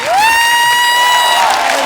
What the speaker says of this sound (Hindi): जोरदार तालियां मिस्टर हिमेश रेशमिया साहब के लिए